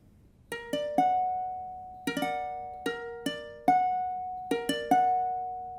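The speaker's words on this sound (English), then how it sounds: "That is augmented" Augmented triad on piano, played three times as quick rolled arpeggios, each set of three notes ringing out and fading before the next, with no voices.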